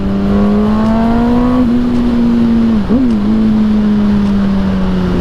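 A Yamaha R1 motorcycle accelerates in cold air, its engine a loud, close, steady drone that climbs slowly in pitch, briefly dips and catches as it shifts gear, then holds on.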